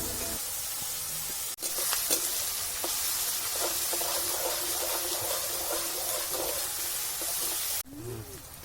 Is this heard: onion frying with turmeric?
yes